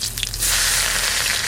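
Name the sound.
garlic and mustard seeds frying in mustard oil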